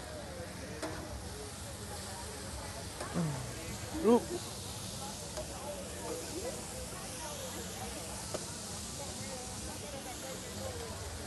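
Hot dogs brushed with mopping sauce sizzle steadily on a tailgate grill, a continuous close hiss and crackle, with a brief flare as sauce hits and a voice exclaiming over it.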